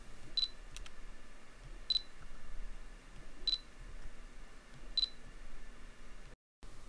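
Fuji XF80mm f2.8 macro OIS lens autofocusing on a camera: four faint, short mechanical ticks at a steady rhythm over a quiet background, with no one talking.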